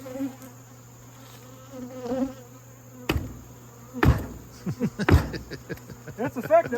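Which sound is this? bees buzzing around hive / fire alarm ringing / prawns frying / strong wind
bees buzzing around hive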